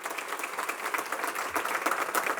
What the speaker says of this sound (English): Can we have a round of applause for our new leadership up there?